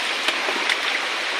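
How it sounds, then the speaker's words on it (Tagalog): A small mountain waterfall gives a steady, close rushing and splashing wash of water, continuous and fairly loud through the short moment, with no talk over it. "Oh, may falls pang maliit dito."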